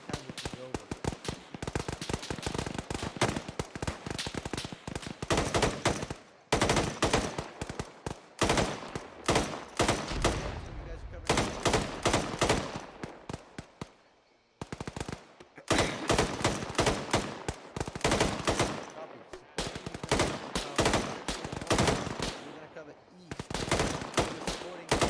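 Sustained bursts of automatic rifle fire in an Arma 3 firefight during a compound assault, rapid loud volleys with brief pauses between strings, continuing for most of the stretch.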